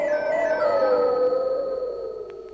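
A dog lets out one long, loud, mournful howl that slides slowly downward and fades, heard alone as a sound effect in a narrated fairy tale.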